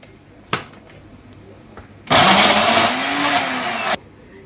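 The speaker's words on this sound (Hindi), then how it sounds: "तो सबसे पहले हम इसको टमाटर को डालते हैं ब्लेंडर के अंदर। इसको ब्लेंड कर लेंगे" After a short clatter, a blender roars loudly for about two seconds blending tomatoes without water, its motor pitch wavering as it chops, then cuts off abruptly.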